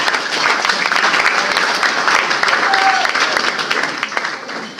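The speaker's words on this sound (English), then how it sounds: "I think you ought to give yourselves a round of applause." Sustained applause from a banquet audience at a Rotary Club anniversary and induction dinner, dense and steady clapping filling the room for the full stretch, easing slightly at the end.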